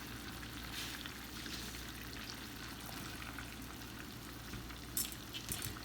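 Garlic and diced onion frying in a pan, a steady close sizzle that holds evenly throughout, with a brief louder crackle near the end and no talk.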